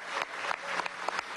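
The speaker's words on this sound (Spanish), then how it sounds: "A los trabajadores del puerto de La Guaira, vamos a darle un aplauso" A crowd at the inauguration of a container terminal at the Port of La Guaira applauds the port workers, a brief, moderately faint spell of clapping with a few louder individual claps.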